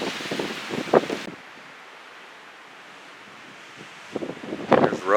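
A windstorm buffets an exposed ridge top on a Tiger Mountain hike, with rough microphone rumble at the start and end and a quieter steady rush between.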